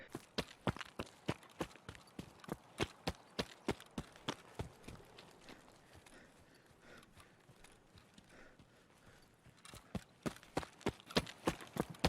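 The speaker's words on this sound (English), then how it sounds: "He does hear 2 footsteps on wood, which is super handy." Footsteps on a wooden floor in Escape From Tarkov, a quick run of crisp, evenly spaced steps that fades, pauses, then returns, faint and hollow, with no talking.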